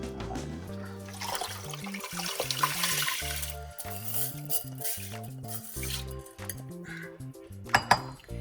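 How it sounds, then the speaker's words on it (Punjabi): Two jugs of water are poured into a metal pot of black gram and kidney bean lentils, with sloshing water and sharp clinks of jug against pot. "2 ਜੱਗ ਪਾਣੀ ਦੇ ਪਾ ਕੇ ਇਹਦੇ ਵਿੱਚ"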